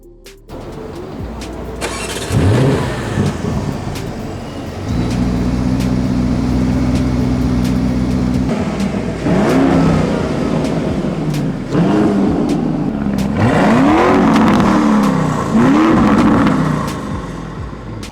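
A yellow 2020 Lamborghini Urus fires up with a loud bark, drops into a deep steady idle, then gives several sharp throttle blips that rise and fall one after another, close and powerful.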